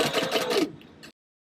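A sewing machine stitches fabric pieces at a four stitch length with a quarter-inch seam, a fast even whir of needle strokes for about half a second that slows, stutters briefly and stops.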